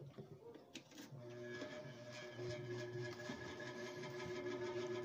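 An electric fan motor switched on after wiring repair, running with a steady mechanical whir and faint rattling hum, close by, with no talking.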